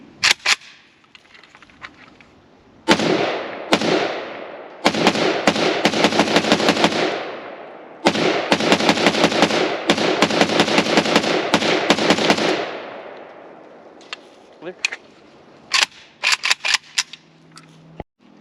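Rapid strings of loud rifle shots from an Arsenal SAM5-62 at an outdoor range, fired in two long bursts of sharp cracks, then a few scattered single shots.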